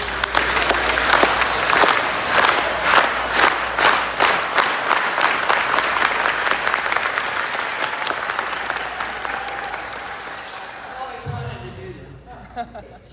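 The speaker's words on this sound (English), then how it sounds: "Can we please do a slow clap for Miss Gravis" An audience at an awards ceremony gives a slow clap for an award winner, with loud, evenly spaced claps that gradually quicken and blur into continuous applause before fading out near the end.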